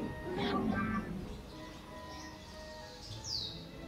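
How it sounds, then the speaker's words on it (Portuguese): A small bird chirps in short bursts in the video game StarCraft II, a few brief tweets near the start and one high sweeping call near the end over quiet ambience. "esse passarinho tá, tá bem chato"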